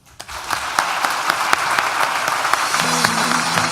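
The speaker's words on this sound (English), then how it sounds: "please join me in thanking people who helped you, whether they're sitting below you here now or watching from across the world, with a round of applause." Applause from a graduation ceremony audience, a dense crowd of clapping that starts abruptly and builds into steady, sustained clapping with a faint tonal sound entering near the end.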